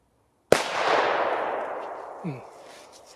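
TP2 SFA300 and CLE0200 Tropic firecrackers exploding: one sharp, loud bang followed by a long, hissing decay, then a smaller pop a moment later, heard alone outdoors.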